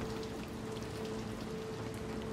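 Steady rain falls in the video game Little Nightmares 2, a dense, even patter of drops hitting surfaces, constant and moderately loud with no voices over it.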